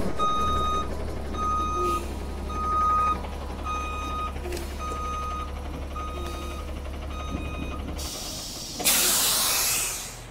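A truck reversing onto a trailer sounds a repeated electronic backup beep in an even rhythm over a low engine rumble, then a loud burst of air hiss from the brakes near the end.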